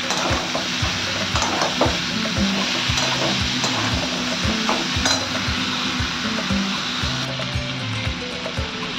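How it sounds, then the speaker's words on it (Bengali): Mixed vegetables stir-frying in a pan over a high gas flame: a continuous close sizzle with repeated rhythmic scraping and clinks of a spatula against metal, fairly loud and steady. "গ্যাসের ফ্লেমটা হাই দিয়ে এগুলো ভালো করে ভেজে নেবো।"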